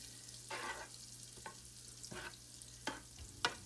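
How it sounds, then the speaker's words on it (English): Meat sears in melted butter in a pan on medium-high heat. A quiet sizzle sits under several distinct scraping and clacking stirs spread across the clip, with a low hum running beneath. "we're wanting to sear the meat"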